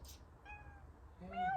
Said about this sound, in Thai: แมวอ้วนมากเห็นไหม